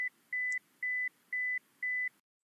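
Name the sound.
buzzer beeping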